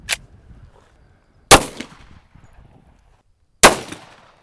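Hornady home defense rounds fired into a car at a vehicle ballistics lab, heard as three sharp, loud gunshot cracks spaced over a few seconds, each followed by a short ringing decay, with quiet gaps between.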